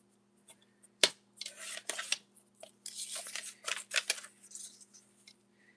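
Scissors snip paper into pieces for a mini junk journal: one crisp cut, then a run of close, bright cutting strokes and rustling paper in a quiet room.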